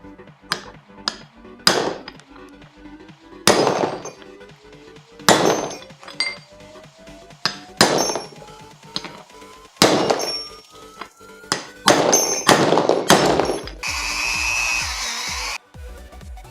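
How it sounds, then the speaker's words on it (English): A new pivot shaft bearing seal is punched into its bore with a series of sharp metallic hammer strikes, spaced irregularly and close up, ending with a burst of quicker blows and a brief scraping rattle. "So we're just gonna punch that in here."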